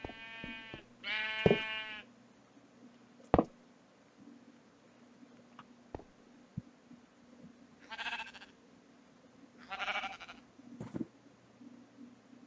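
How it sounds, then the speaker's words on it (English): Sheep in the Minecraft video game bleating in several separate short calls spread across a quiet stretch, with occasional soft clicks and faint background hum. "The brown sheep."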